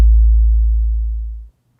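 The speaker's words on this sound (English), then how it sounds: "So immediately you can hear that an 808 is coming along pretty nicely" A deep 808-style synthesized bass note made in Serum 2 hits once, a pure low sine tone that starts loud and decays smoothly over about a second and a half before cutting off, heard alone.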